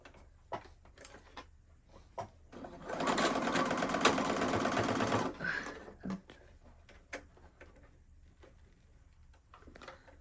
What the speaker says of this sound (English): now I want to go and take to my sewing machine here